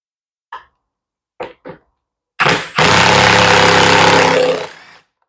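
A stuck bolt on an AWD Husqvarna mower gives way under a wrench, with a few sharp clicks, then a loud grinding, rasping screech that holds for about two seconds before stopping.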